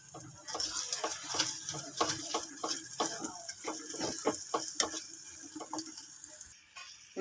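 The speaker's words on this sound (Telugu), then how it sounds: "ఇందులో మనం వాటర్ వేసుకుందాం" Water is poured into a simmering prawn and raw mango curry in a pan, followed by soft irregular splashing, stirring taps and a faint sizzle. The sounds are quiet, with no talking.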